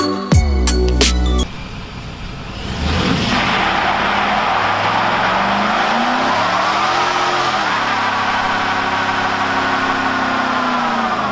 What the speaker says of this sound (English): I hope you guys enjoyed the little burnout action there on Wayne's truck.